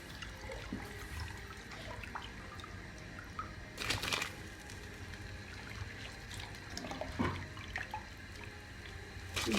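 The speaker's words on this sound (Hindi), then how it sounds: "और अब हम इसमें चावल डालते हैं।" Rice is tipped into a pot of salted water for vegetable biryani, giving a soft splash over a steady background of running, trickling water, with a few faint drips and a second small splash near the end.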